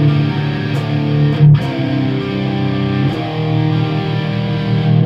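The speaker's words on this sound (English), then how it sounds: "So this is the sound of the amp. Usually it's a Mesa or something that I tour with." A distorted electric guitar runs through a Mesa amp, with sustained, heavily driven chords ringing loud and thick, shifting pitch a couple of times with a brief scrape, no voices.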